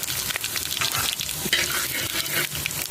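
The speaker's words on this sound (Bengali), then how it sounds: "তেল গরম হয়ে গেছে দিয়ে দেবো গোটা জিরে আর তেজপাতা" Whole cumin seeds and bay leaves crackle and sizzle vigorously in hot oil, the start of a home-style duck curry with papaya, a dense, close frying hiss with sharp pops throughout.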